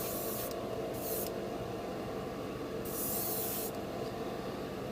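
An airbrush hisses as gloss varnish is laid onto a large Gundam RX-78-2 model kit, a continuous close spray with two brief brighter bursts as the trigger opens further, no voices.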